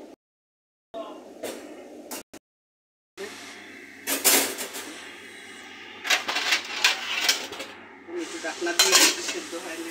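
Home cooking in a pot, with metal utensils stirring and scraping against the pot in irregular bursts over a soft sizzle, interrupted by brief silent gaps, close and clear, no talking.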